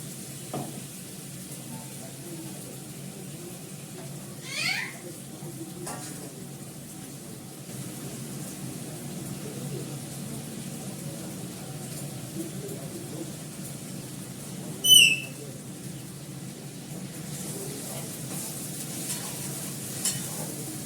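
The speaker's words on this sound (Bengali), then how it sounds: "আমি ভালো করে কষাই, পরে জল দেবো।" A paste of fenugreek leaves is sautéed in a pan, giving a faint, steady sizzle broken by a couple of brief utensil scrapes.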